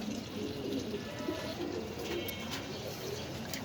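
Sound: dragon pigeon cooing

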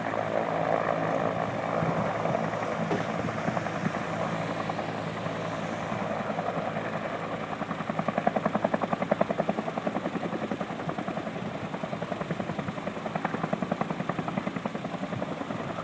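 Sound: helitanker helicopter landing for reload at wildfire

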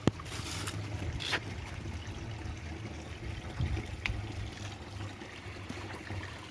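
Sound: water from a spring being collected

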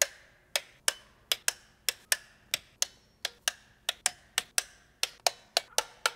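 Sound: torque wrench clicking while tightening valve cover bolts

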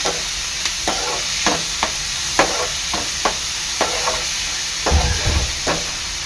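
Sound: onion frying in a pan until golden

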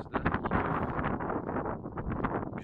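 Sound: wind blowing in a village

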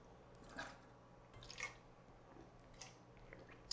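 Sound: person taking a swig of water

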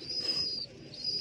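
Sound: pigeon cooing while sitting over its chicks

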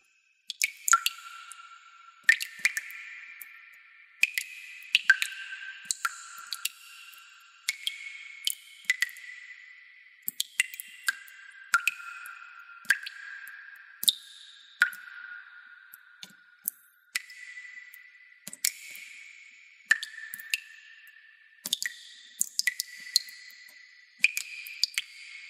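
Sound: water dripping from faucet, video game Emberzone

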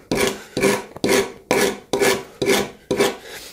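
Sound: rasp smoothing saw marks on a wooden plane handle

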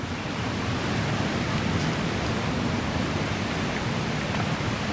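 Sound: stream at Mae Sa waterfall campground

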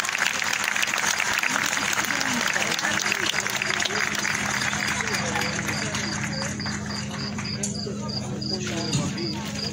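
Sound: audience applause at a gala

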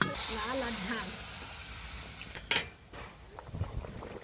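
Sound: water added to hot pan with fish curry, sizzling

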